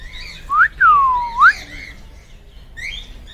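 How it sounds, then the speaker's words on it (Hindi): Birds in an aviary at Lucknow zoo give a few clear, whistled calls with rising and falling sweeps, close and distinct, over a quiet background with faint chirps further off. "यहाँ पे आप देख रहे हो चिड़िया है और ये वाली खूबसूरत लग रही है"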